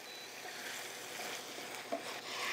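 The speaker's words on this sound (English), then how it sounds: "Let's mix this all together." Ground beef, beans and sauce being stirred together in a hot pan, a steady soft scraping and faint sizzle running throughout with one brief clink near the end, no talking.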